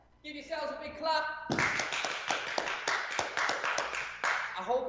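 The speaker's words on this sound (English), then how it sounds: "Give yourselves a big clap" Participants at a Saturday morning outdoor movement session at a festival clap together after a capoeira-style warm-up, a dense burst of hand claps starting after a brief stretch of talk and continuing fairly loud and close.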